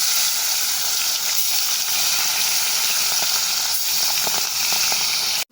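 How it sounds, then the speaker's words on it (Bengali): Bata fish rubbed with turmeric and salt frying in hot mustard oil, a loud, dense, continuous sizzle with faint crackles, ending abruptly; no voices. "এবার হলুদ লবণ মাখানো বাটা মাছগুলো এক এক করে দিয়ে ভেজে তুলে নেব।"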